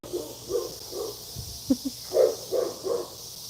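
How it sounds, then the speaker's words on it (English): Several dogs barking at a distance outdoors, a handful of muffled barks coming in small clusters over a steady background hiss. "I don't like when the dogs are barking."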